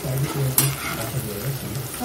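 Food sizzles steadily in a hot pan while a utensil scrapes and stirs in repeated strokes, with one sharp clink of metal, close and continuous, for a Bengali potato and egg bhujia seasoned with salt and turmeric.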